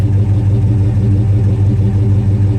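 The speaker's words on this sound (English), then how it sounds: "Give her a rev, would ya? One more good one." 1968 Ford Torino GT fastback with a 390 cubic-inch V8, idling loud and close with a deep, steady rumble and a slight throttle swell, no voices over it.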